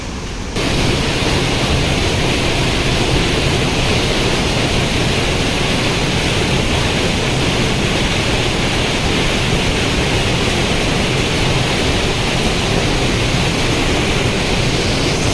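Water pours down the hill at Gowri Shankara Kona in a loud, unbroken roar of broadband rushing noise that holds steady for the whole stretch, with no voices.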